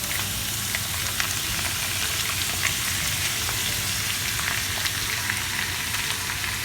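Paneer cubes and sliced peppers fry in a pan, giving a steady, soft, close sizzle with faint crackles throughout and no voices.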